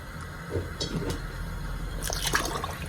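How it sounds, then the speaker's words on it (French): Water is poured into a cooking pot of Korean chicken baeksuk with rice, a steady splashing, gurgling pour at close range that runs continuously for a few seconds without talk. "Mais comme on va rajouter du riz, on va rajouter aussi de l'eau encore"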